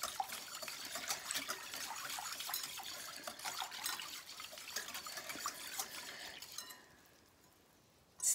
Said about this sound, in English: says to mix it until it's completely dissolved. So I'm mixing it.